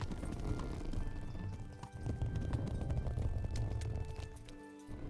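Horse hooves gallop steadily across the ground in the medieval game Kingdom Come: Deliverance, a continuous rapid clip-clop rhythm with a brief dip midway, loud and close, with no talking over it.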